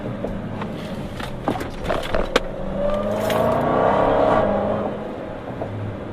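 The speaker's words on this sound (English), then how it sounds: "That supercharger whine is absolutely awesome." A Dodge Challenger Hellcat with a Borla exhaust drives past with its engine swelling, a supercharger whine rising over the exhaust note, plus a few sharp clicks, heard without talk.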